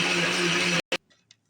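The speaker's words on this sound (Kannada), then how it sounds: "ಇವಾಗ ಇದನ್ನು ನುಣ್ಣಗೆ ಪೇಸ್ಟ್ ಥರ ರುಬ್ಕೊಂಡು ಬರೋಣ." An electric mixer grinds ripe banana and milk into a smooth paste, a loud steady whirring drone that cuts off abruptly, followed by a short burst and then faint clinks.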